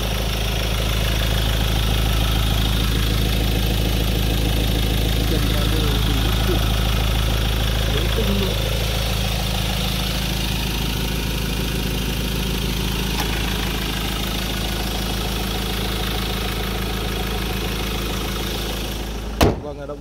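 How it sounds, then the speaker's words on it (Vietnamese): A 2019 Ford XLT pickup with a 2.2 diesel engine and manual four-wheel drive idles in a smooth, steady low rumble, heard close and alone, with a brief knock near the end. "máy nó rất êm, rất là chắc"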